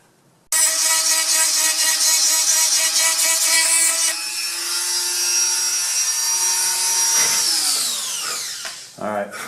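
Steady abrasive whine of a grinder shaping a taper onto a ceramic headlight plug for a Fox body Mustang, loud and continuous, its pitch sliding down as the tool spins off.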